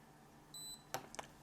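A SwitchBot Remote entering pairing mode sounds a single short electronic beep once, followed by a couple of soft clicks, in an otherwise quiet room.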